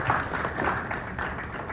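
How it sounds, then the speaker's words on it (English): Audience applause at a manifesto launch event, a short steady burst of many hands clapping in a hall, fairly loud and dense throughout. "Can we clap for them?"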